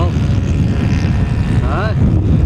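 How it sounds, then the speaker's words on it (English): An airplane taking off, a steady loud engine drone that holds throughout with a brief rising whine near the end, and a voice speaking over it. "Nice takeoff, Donald."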